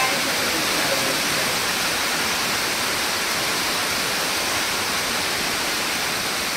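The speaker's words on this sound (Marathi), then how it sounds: "भयंकर पाऊस चालू आहे" Heavy rain pours down at night outdoors, a dense, loud, unbroken roar of falling water that holds steady throughout.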